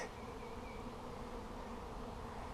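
Dense, steady buzzing of a swarm of bees in a net fills the air, a continuous droning hum without pauses.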